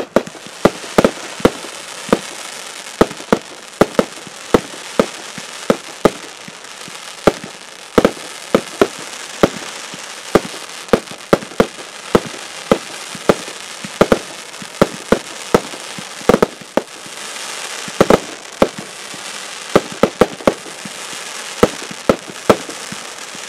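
A 37-shot Next Emotions fireworks cake fires a long series of sharp bangs in quick, steady succession, with crackling between shots and no voices.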